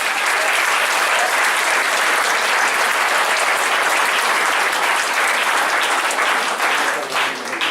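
A church congregation bursts into loud, sustained applause for Jesus, a thick, continuous roar of many hands clapping at close range, steady for several seconds before thinning slightly at the end.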